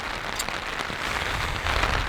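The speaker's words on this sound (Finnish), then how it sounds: "Tuulee liian kovaa, sataa koko ajan. Nytkin sataa." Rain falling steadily in the Käsivarsi wilderness of northern Finland, a dense close hiss of drops pattering on surfaces, continuous and fairly loud with no voices.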